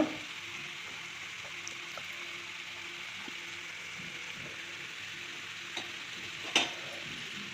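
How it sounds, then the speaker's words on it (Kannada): Karji kaayi, sweet stuffed pastries, deep-fry in oil over a low flame, giving a quiet, even bubbling hiss with a few faint clicks and one brief louder knock near the end. "ಈ ಕರ್ಜಿಕಾಯಿನ ಅದರಲ್ಲಿ ಹಾಕಿ ಕಡಿಮೆ ಫ್ಲೇಮಲ್ಲಿ ಚೆನ್ನಾಗಿ ಬೇಯಿಸ್ಕೊಳ್ಳೋಣ ಎಣ್ಣೆಯಲ್ಲಿ ಕರಿಯೋಣ"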